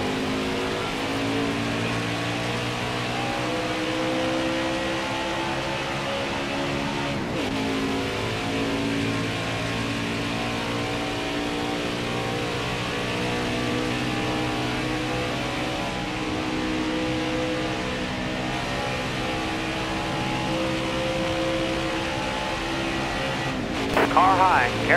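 Stock cars race at Talladega in NASCAR Heat 5, a continuous loud, droning engine roar with harmonic whine that holds steady throughout, briefly dipping and surging as cars pass close by.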